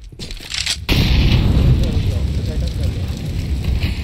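A flashbang grenade bursts in CS:GO with a sharp crack, followed by a loud ringing, hissing wash that lingers, while voices talk.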